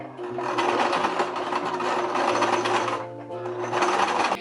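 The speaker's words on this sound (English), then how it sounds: "sew a straight line with my sewing machine" A sewing machine stitches a straight line through fabric, running steadily in a loud, close mechanical whir with fast rhythmic stitching, pausing briefly before starting up again.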